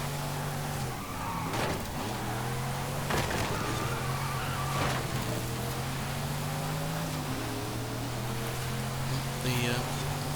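Chevrolet K-10 Custom pickup racing in B Class in Forza Horizon 5, its engine droning steadily with rising and falling pitch through gear changes, joined by bursts of tyre noise and whooshes, continuous and loud throughout.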